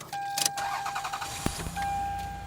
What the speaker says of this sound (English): you heard the car turn on